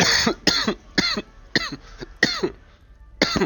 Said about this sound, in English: I don't mean to cough all in y'all ear